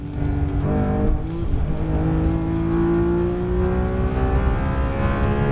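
A 2018 Porsche 911 GT3 Touring engine screams at speed on a race track, hitting the rev limiter. Its loud, close, steady howl climbs in pitch without pause.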